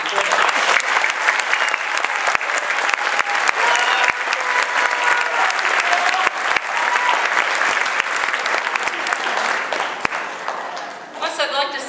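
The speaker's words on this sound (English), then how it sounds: "I'd like to give them a round of applause" Loud, sustained applause from the audience at a school instrumental music performance, a thick steady roar of clapping with some cheering that carries on for most of the time before tapering off.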